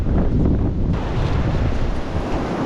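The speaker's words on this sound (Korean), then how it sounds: "왼쪽에서 불어오는 북서풍의 강풍 속에서 낙엽길도 걷고 산주길도 걸으면서" Strong northwest wind roars steadily across a Korean mountain ridge trail, a loud, continuous buffeting rush with dense low rumble throughout, no voices.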